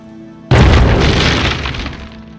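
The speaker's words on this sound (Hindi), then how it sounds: "ग्रेनेड!" A grenade blast in an action movie hits as a sudden, very loud boom after a quiet moment, then rolls out into a long, decaying rumble.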